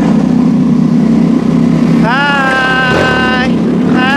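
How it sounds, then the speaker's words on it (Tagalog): Motorcycles coming back along a mountain trail, their engines a loud, close rumble throughout, overlaid by a rising and falling whine as one passes, with people talking over the noise. "Bumalik na yung mga motor."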